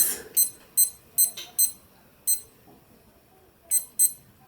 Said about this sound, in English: So I'm going to set my timer for 30 minutes.